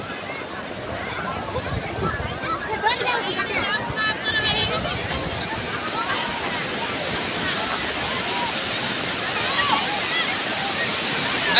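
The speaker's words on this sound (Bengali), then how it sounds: "এটা হচ্ছে সমুদ্র" Continuous surf washes and roars on the shore at Puri beach by Marine Drive, with voices chattering faintly over the waves.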